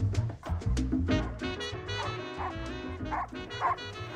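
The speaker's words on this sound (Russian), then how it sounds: "Замечательные собаки, которые дают Мишке прикурить" Several Russo-European Laika hunting dogs bark and yelp excitedly nearby, with overlapping loud barks and some whimpering in a rapid, continuous flurry.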